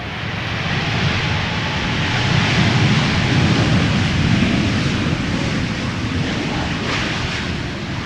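An airliner, first flown in April 2019, arriving in gusty crosswind at Amsterdam Schiphol Airport, a loud, sustained engine roar and rumble that swells and fades slightly as it passes nearby.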